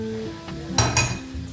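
A pressure cooker pot is shifted to a back burner of a home stove, making two quick metallic clanks and a scrape over a low background hum, with no speech.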